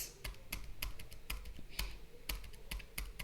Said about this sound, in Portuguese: Tô dando enter aqui, ó.